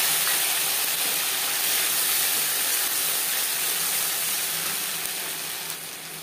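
Spice-washing water hits hot oil in a karai, giving a loud, steady hissing sizzle that fades slightly toward the end, with no one speaking.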